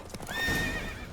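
A horse whinnies and its hooves clip-clop during a race in the video game The Witcher 3, with a loud, drawn-out neigh that rises and falls over the hoofbeats, close by.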